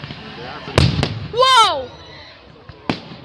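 Fireworks at an outdoor show go off in a few sharp, loud bangs spread over a few seconds, with a person exclaiming between them.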